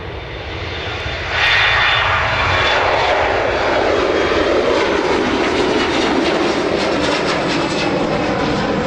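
BMI Baby airliner jet engines roar on departure, a broadband rumble that swells sharply about a second and a half in and then holds loud and steady to the end, with no voices.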